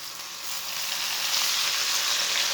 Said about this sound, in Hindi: 2 सब्ज़ मिर्च डाल लेंगे। 1 बारीक कटा हुआ टमाटर डाल लेंगे।